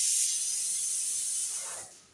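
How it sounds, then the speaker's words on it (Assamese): A pressure cooker on the stove while sambar is being made lets off a loud, steady rush of hissing steam that holds for about two seconds and then tapers off. "লগতে কুকাৰটো চিটি মাৰিছে"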